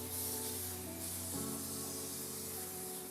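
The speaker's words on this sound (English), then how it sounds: "I'm gonna spray our grates here with some cooking spray" Cooking spray hissing from an aerosol can onto baking grates over a foil-lined baking sheet, a steady close spray with a slight shift partway through, over a faint background hum.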